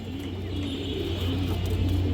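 A pair of pigeons held in the hand coos in low, rolling, repeated calls at close range. A steady hum runs underneath.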